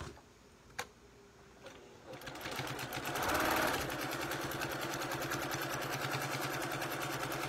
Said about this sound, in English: I'm going to sew a 1/4 inch to close it